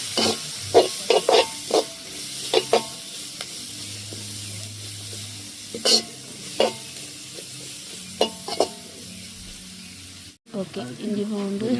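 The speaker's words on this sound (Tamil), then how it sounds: "பெருஞ்சீரகம் கடையும் போட்டு வதக்கணும்" Fennel seeds sautéing in a pan, a steady close sizzle broken by repeated scraping stirs from a spatula, with a soft voice briefly under the cooking noise.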